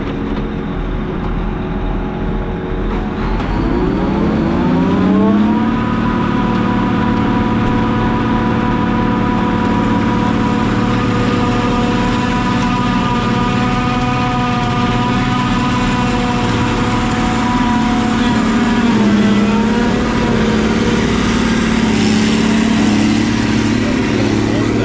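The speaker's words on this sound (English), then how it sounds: "He's gonna fire it up." A farm chopper's engine fires up and runs steadily, its loud drone rising in pitch as it spins up and then holding a sustained hum throughout, close by.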